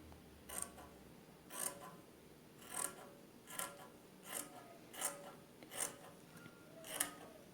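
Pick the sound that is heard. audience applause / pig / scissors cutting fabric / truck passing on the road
scissors cutting fabric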